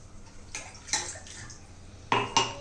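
Water is poured from a cup into a cooking pan to start green tea, giving several short splashing bursts with a clink of metal, close by and with no talking.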